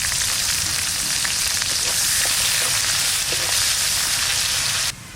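Chopped onion frying in white oil with cinnamon, cardamom, cloves and bay leaves for prawn pulao makes a loud, steady hiss close by, with faint stirring clicks, easing off at the very end.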